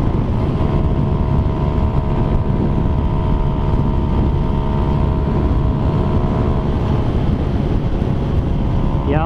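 Yamaha Sniper 155 motorcycle at high speed, a loud continuous engine drone buried in heavy wind roar, steady throughout with a rising whine near the end.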